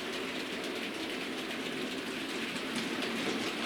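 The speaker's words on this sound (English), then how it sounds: "Here we are pulling a heavy freight train, all weathered trucks, weathered locomotive" A model tank engine pulls a heavy freight train of weathered trucks along a test track, giving a steady, continuous rolling rumble and rattle with a faint hiss, close by and even in level throughout.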